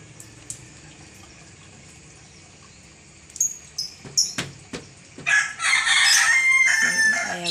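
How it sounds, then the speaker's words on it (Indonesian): A rooster crows loudly nearby after a quieter stretch with a few scattered knocks on a rainy morning, the crow drawn out and ringing. "Ayamnya pada berkokok."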